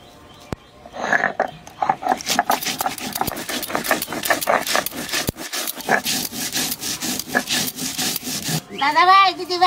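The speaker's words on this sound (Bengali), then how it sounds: "ডালি বড়ি বাপানোর জন্য মশলাগুলো বেটে নেবো কালো সর্ষে সাদা সর্ষে আর জিরে" Black mustard, white mustard and cumin seeds are ground into a paste on a grinding stone, a rapid run of rhythmic scraping strokes close by with a brief sharper tonal sound at the end.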